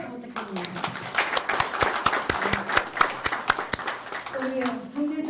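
An audience applauds at a Korean medicine association president's inauguration ceremony, sustained clapping from many hands lasting several seconds, with a voice speaking briefly near the start and end.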